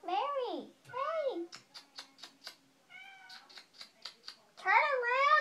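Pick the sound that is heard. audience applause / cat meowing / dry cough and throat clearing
cat meowing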